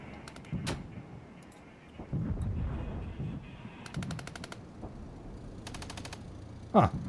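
Rapid bursts of machine-gun fire against an artillery piece in the WWII-era tactics game Regiments, several staccato volleys separated by pauses over a low rumbling battlefield bed, with a sharp louder crack near the end.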